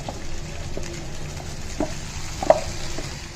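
A tempering fries in a pan for lemon rice, a soft steady sizzle with light crackles and a couple of small pops as a spoon stirs it.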